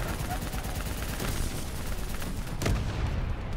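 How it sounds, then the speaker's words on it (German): Gunfire in the video game Call of Duty Black Ops 3 rattles in dense, continuous bursts with a heavier crack near the end, loud and close under a constant roar of game noise. "Ich hab keine Zeit, ich muss schießen"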